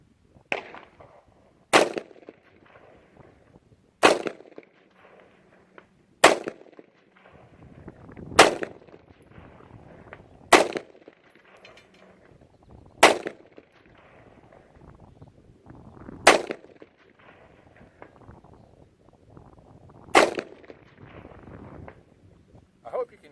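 Competition rifle fired at 800 yards from a ten-round pinned magazine: nine sharp, loud single gunshots spaced roughly two to four seconds apart, each with a short rolling echo over light wind.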